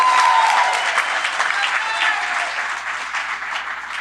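Audience applause fills a hall at the 2nd Annual Citizen of the Year awards in Philadelphia, steady and dense throughout with no clear talk over it.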